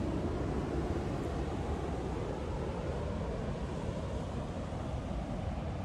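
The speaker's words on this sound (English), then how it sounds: "you can hear the waves in the background" Ocean waves at a harbor beach make a steady, faint wash of broadband noise with wind buffeting the microphone, distant and continuous with no distinct breaks and no talk.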